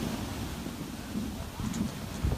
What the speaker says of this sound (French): Les vagues le déplacent à chaque fois qu'elles viennent s'écraser contre lui.